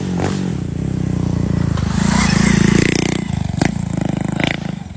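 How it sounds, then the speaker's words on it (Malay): Young riders' motorcycle engines drone and rev close by, rising to a louder peak midway before easing, with a few sharp clattering knocks layered over the rumble. "Inilah anak muda main motor lah apalah."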